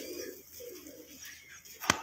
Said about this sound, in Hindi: उस्ताद नज़र शाह साहब ने कबूतर छोड़े हुए हैं